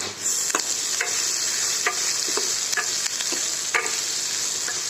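Chopped onion, cut fairly large, roasts and sizzles steadily in a hot pan for a tomato filling, with a spoon stirring it and scraping and knocking at intervals over the constant frying hiss.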